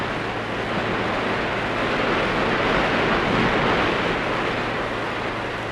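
A rampaging river with swift, crushing currents gives a dense, continuous roar of rushing water, steady and loud with no pauses and no voices.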